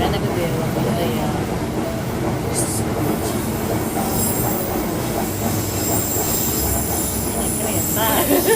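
A train rolls along its rails heard from on board, a loud steady rumble with wheel squeal and faint clicking joints throughout, continuous over several seconds.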